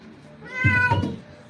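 A groomed cat gives a single clear, drawn-out meow, close and fairly loud, during a double cat grooming session with dragon and lion cuts.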